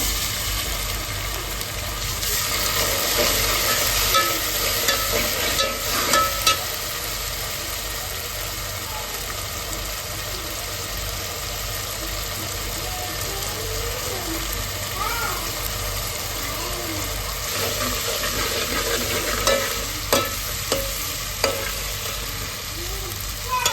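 Ginger garlic paste fries in hot oil for egg biryani, giving a steady close sizzle, with occasional stirring scrapes and clinks of a spoon against the pot.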